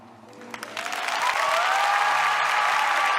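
An audience breaks into applause that swells from scattered claps into a loud, sustained wash of clapping, with faint music tones underneath.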